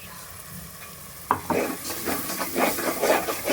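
Ground masala dropped into hot oil and stirred for a stuffed brinjal curry: quiet at first, then a sudden sizzle followed by rhythmic scraping strokes and steady frying.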